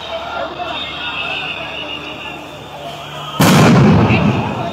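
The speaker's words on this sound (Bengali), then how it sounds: "টিয়ার শেল এবং সাউন্ড গ্রেনেড কিন্তু নিক্ষেপ করা হচ্ছে" A sound grenade bursts during police dispersal of a street protest, a sudden loud blast after a few seconds of crowd and street noise, followed by a lingering roar.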